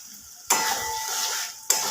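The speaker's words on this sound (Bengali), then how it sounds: "এবার এটাকে একটু ভালো করে নাড়াচাড়া করে নেবো" Food being stirred in a pan over a gas flame, with mustard oil just added: a sudden burst of sizzling and scraping that holds steady, then a second sharp scrape near the end, close and fairly quiet.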